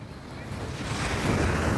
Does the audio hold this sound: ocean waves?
yes